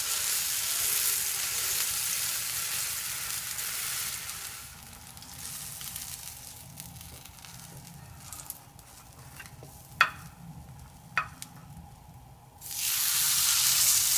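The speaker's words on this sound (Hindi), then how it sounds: "इसे हमने शैलो फ्राई करना है, डीप फ्राई नहीं करना" Bread pizza topped with semolina shallow frying in a lightly oiled pan, a steady broadband sizzle that dips in the middle with a couple of sharp clicks, then swells loud again near the end; no talking.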